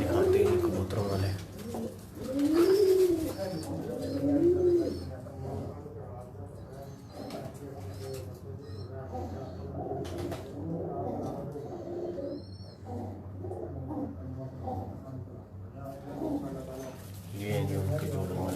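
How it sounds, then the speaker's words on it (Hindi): Pair pigeons kept on a rooftop in Faisalabad coo close by in soft repeated rolling calls, a few louder coos early on, over a steady low background hum. "ये हैं जी उनके जोड़ों वाले कबूतर।"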